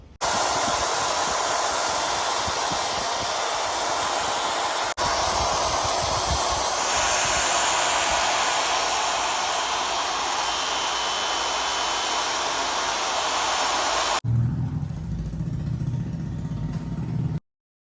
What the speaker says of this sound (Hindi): अब इसकी एक बार बफिंग करेंगे तो ये पूरा एकदम ग्लोसी हो जाएगा।